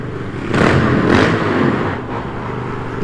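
A motorcycle at a motovlogger meetup revs up twice in quick bursts, a loud nearby roar rising and falling before easing back to a lower idle.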